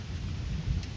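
Thunder from a thunderstorm rolls as a brief low rumble under steady rain, with no voices.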